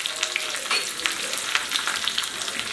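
Curry leaves hit hot oil in a tempering of urad dal, chana dal, green chilli and ginger for South Indian curd rice, giving a close, continuous crackling sizzle dotted with sharp pops.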